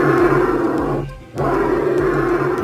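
An Australian bustard gives a deep, loud, close, lion-like roaring call with rumbling pulses. It breaks off briefly in the middle and then resumes, with nothing else heard.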